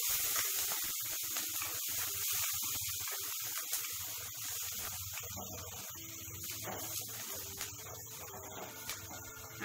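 Ingredients for masala Maggi fry in butter with a continuous close sizzle and hiss, dense and steady throughout with faint crackles.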